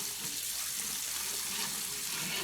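A kitchen faucet runs steadily with water splashing into the sink as dishes are washed during sweet potato pie preparation, a continuous close hiss with no talking.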